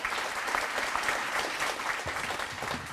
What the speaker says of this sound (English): So please give her another round of applause.